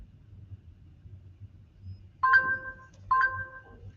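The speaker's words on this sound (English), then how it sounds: "I did hear a ding on my phone." A phone gives two clear, bright notification dings, close together and fairly loud, over a faint low hum; no talking.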